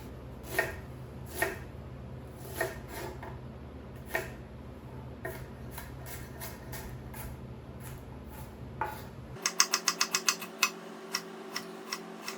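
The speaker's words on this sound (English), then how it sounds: "I'm going to dice some of my vegetables that I'm using, the onion and the peppers, and I'm also going to cut up the garlic" A knife taps steadily against a cutting board while onion, peppers and garlic are diced, with sparse single chops giving way to a quick run of rapid, crisp clicks, close and fairly quiet, with no talking.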